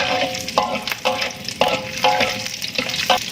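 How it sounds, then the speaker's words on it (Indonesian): Unpeeled garlic cloves fry in a pan of hot oil, giving a steady close sizzle broken by repeated short scraping stirs at roughly half-second intervals, with no talking. "Saya goreng dulu bawang putihnya."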